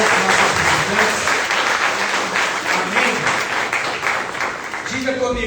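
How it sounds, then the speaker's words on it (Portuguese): A church congregation claps together, a dense and loud burst of applause that runs throughout with voices mixed in. "Vamos dar um aplauso ao Senhor Jesus pela vida dos nossos visitantes"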